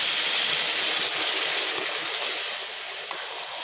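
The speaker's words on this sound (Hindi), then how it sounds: "अब हम इसमें डालेंगे पानी" Boiled water is poured into roasted food in a cooking pan, giving a steady, close hiss and gush of flowing liquid that slowly eases off toward the end.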